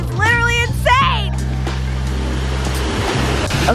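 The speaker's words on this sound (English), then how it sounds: "look at the bottom of the waterfall" Steady roar of a waterfall cascading into a clear, cold pool during a vacation outing, a constant rushing wash of water with a voice briefly speaking near the start.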